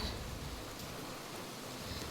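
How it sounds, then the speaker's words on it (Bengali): Steady rain falls on a cloudy afternoon, a dense, even hiss of drops on surfaces close around, with no voices. "বৃষ্টি পড়ছে।"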